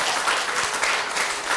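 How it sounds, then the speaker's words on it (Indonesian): Students clap together in a classroom, a steady, dense round of applause that carries on evenly at moderate volume with no talking over it. "berikan aplaus dulu"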